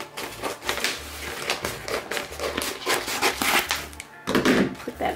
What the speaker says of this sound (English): I'm just gonna take my scissors, cut along.